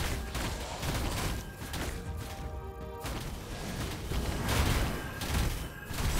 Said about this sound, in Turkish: Bir patlama daha.